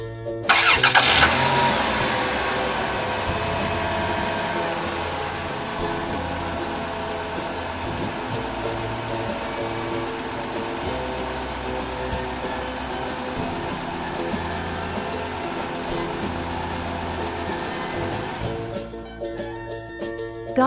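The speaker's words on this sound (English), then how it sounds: "ice cream van, ice cream van," An ice cream van's engine runs steadily and loudly with a droning hum for about twenty seconds; no one speaks.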